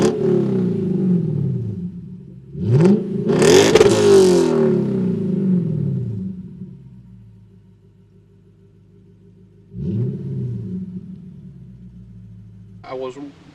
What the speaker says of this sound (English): he cranked up the 5-liter 2UR GSE V8. As soon as I cranked it and heard the exhaust note